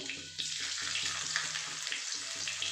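Julienned ginger hits hot oil in a pan for a vegetarian paneer dish and sizzles steadily. The hiss is close and continuous, with faint bubbling and no one speaking over it.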